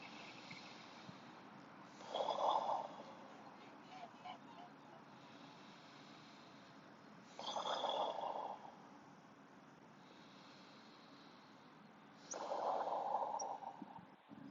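Slow yoga breathing cycles: three long, audible breaths spaced several seconds apart, soft and close, with quiet pauses between them.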